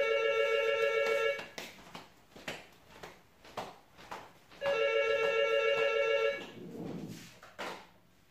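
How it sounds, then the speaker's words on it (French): A landline telephone rings in two long bursts of electronic trilling, loud and close, with faint clicks and taps in the pauses between the rings. "J'ai horreur que quand je fais une vidéo, on appelle et en plus sur ce téléphone fixe"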